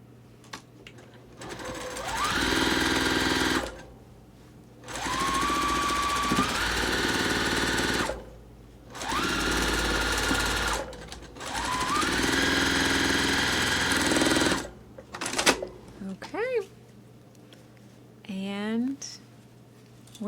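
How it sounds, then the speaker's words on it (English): Sewing machine stitching a seam of an Ohio Star quilt block, loud close whirring bursts of several seconds each separated by pauses, with a voice speaking during the quieter gaps at the end. "I'm going to lower my needle into the beginning of the seam so I don't ever put a pin at the beginning."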